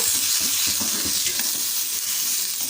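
Chopped onion and tomato are stirred in a pan for a South Indian tiffin side dish. Steady, close frying hiss runs under soft, rhythmic scraping from the spatula.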